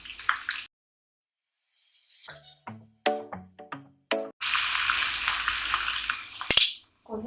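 Chicken crunch bites frying in hot oil as they are turned, a steady close sizzle after a few soft stirring knocks and scrapes of a utensil, with a brief metallic clank near the end.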